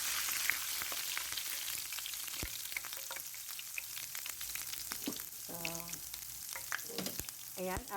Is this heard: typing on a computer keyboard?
no